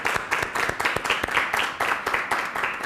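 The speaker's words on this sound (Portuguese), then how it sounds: "uma salva de palmas" Audience applause after a church performance, a dense run of many hands clapping steadily for about three seconds with no voices over it.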